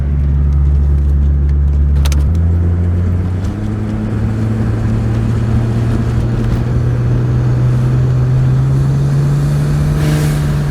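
A turbocharged 2JZ engine in a Toyota Aristo revs hard under boost near 12 psi, its steady tone stepping up in pitch and holding a loud, sustained pull without any talking.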